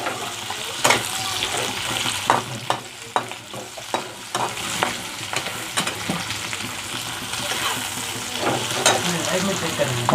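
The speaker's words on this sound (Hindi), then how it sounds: "और इसको अच्छे से हम फ्राई होने के लिए छोड़ देंगे।" Chicken frying for a Chinese chicken dish is stirred and tossed in a pan, with repeated scraping strokes over a continuous loud sizzle, close up and without clear speech.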